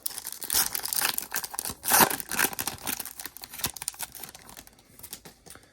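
A foil baseball card pack is torn and crinkled open up close, giving a few sharp ripping bursts followed by rustling and crumpling, with no talking.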